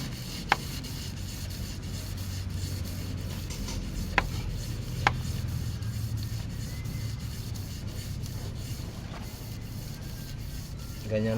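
Sandpaper rubbing on a slightly rusty 4D35 engine crankshaft during a rebuild, steady rasping strokes at close range with a few sharp metallic clicks scattered through.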